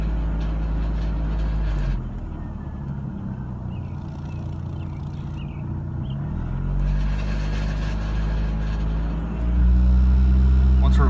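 A VW A3 with a 2.0 ABA engine gives off a malfunction noise under throttle, a continuous low engine drone that shifts in level as the gas changes, with a person talking over it.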